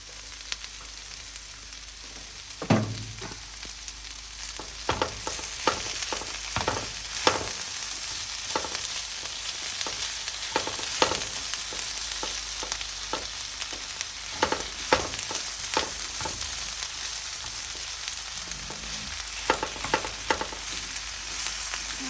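A steady sizzle of refried beans with cilantro frying in a pan, with scattered sharp pops and a few stirring scrapes over a continuous hiss, with no voices.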